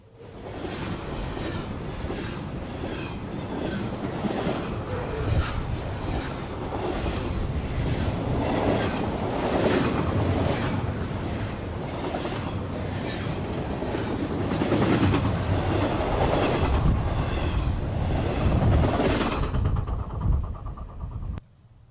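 A long Norfolk Southern intermodal freight train carrying domestic containers rolls steadily past on the New Castle District, with a rhythmic clickety-clack of wheels over rail joints and a constant rumble that swells and fades over about twenty seconds.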